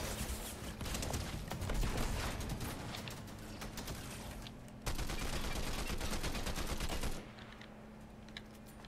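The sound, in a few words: gunfire in Fortnite video game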